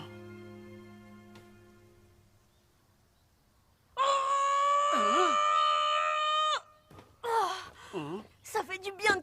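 A cartoon character from the anime Inazuma Eleven Go lets out a long, loud, sustained scream of frustration after a quiet stretch, followed by shorter strained vocal bursts.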